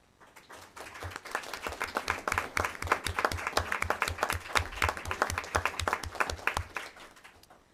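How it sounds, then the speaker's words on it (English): A roomful of people at a school board meeting gives a round of applause for committee members. The clapping is moderately loud and crisp, swelling quickly, holding steady for several seconds, then tapering off. "please help me by thanking them by a round of applause"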